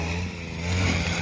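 Tractor engine running in farm fields during ploughing season, a steady low mechanical drone with a constant hum, fairly close and continuous throughout.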